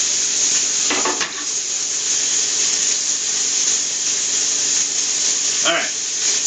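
Meat sears in a hot pan for barbacoa, giving a steady, loud sizzle that runs throughout, with a couple of brief clanks of utensil or pan.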